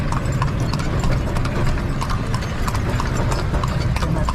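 Hooves of Rambo, an eight-year-old carriage horse at Luneta Park in Manila, clip-clop steadily and close over busy outdoor city ambience, with faint voices in the background.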